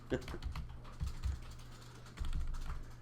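Brief burst of computer keyboard typing, a few close, soft key taps and clicks over a low electrical hum.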